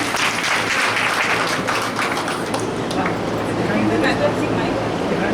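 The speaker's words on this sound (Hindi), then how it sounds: "मिलन जी के लिए एक बार ताली बजा दीजिए।" Audience applause at a Yoga Day gathering in Gaur City, Noida, a steady dense clapping that carries through the whole stretch with voices mixed in.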